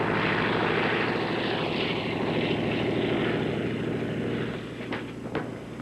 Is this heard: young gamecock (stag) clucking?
no